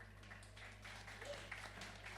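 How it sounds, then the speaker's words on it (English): Audience applause at a tech conference panel on crosschain interoperability: a steady, faint patter of many hands clapping throughout, with no voices over it. "Give him an applause and welcome."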